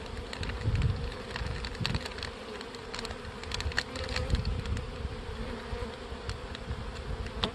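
Honey bees buzz steadily around a plastic baggie feeder at a beehive, a dense continuous drone with occasional louder passes of individual bees close by.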